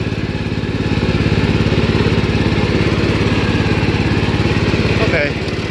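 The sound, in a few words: 1973 Gravely 814 walk-behind tractor engine driving in third low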